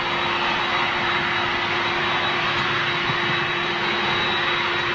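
Heavy jet aircraft arriving at Manchester Airport, a loud, continuous engine roar with a steady whine over broad rumble, unbroken for several seconds and with no speech.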